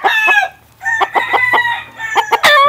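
An SBR gamefowl rooster of Mount Banahaw stock crows loudly and close up, with repeated crowing calls and clucks spread over a few seconds and no talk.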